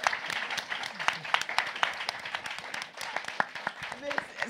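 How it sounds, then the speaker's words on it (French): Scattered clapping from a small group, crisp and fairly close, with a voice talking over it toward the end. "On va même t'applaudir."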